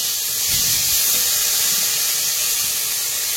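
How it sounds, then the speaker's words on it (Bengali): Fresh river prawns go into hot oil and fry with a steady, close hiss and sizzle that holds for the whole stretch. "এবারে চিংড়ি মাছটা দেবো।"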